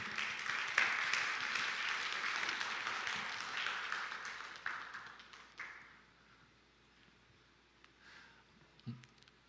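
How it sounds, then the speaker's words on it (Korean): Church congregation applauding after a call to honour children's and youth department volunteers, a broad patter of clapping that swells loudly then fades over several seconds into near quiet, with a brief soft thump near the end. "수고한 이들에게 박수 한번 하도록 하겠습니다"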